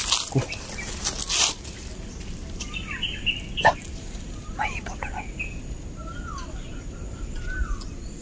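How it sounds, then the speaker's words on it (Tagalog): Short bird calls ring out in a horror video game set in the mountains, a few scattered chirps and caws over a dark ambient hum, with low voices talking and whispering early on. "Ibon na isul yan."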